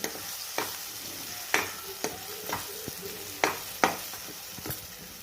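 Crushed roasted peanuts being stirred into brinjal bharit with a spoon, giving soft scraping stirs and a few sharper clinks against the pan over a faint sizzle, fairly quiet and close, with no talking.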